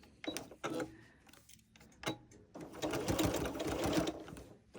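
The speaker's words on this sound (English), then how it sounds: "I use my walking foot to attach the binding to my quilt. So I'm going to start here. I'm going to back stitch a couple." Sewing machine with a walking foot back stitching to attach binding to a quilt: a few short whirring bursts start and stop, then a steady run of close, fairly loud stitching.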